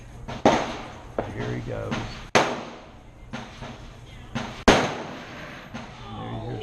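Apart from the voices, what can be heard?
gunshots at a gun range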